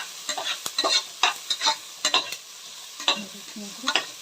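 Curry leaves dropped into hot tempering oil crackle and sizzle in a pan, giving a string of close, sharp popping bursts with irregular stir scrapes and no talking.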